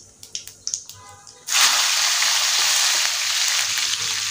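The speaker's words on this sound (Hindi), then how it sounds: "अब ये मिर्च को थोड़ा सा 10 सेकंड के लिए ऐसे फ्राई कर लेंगे।" Green chillies frying with cumin seeds and asafoetida in hot oil for an okra dish, a few sharp crackles at first, then a sudden loud, steady sizzle that carries on to the end.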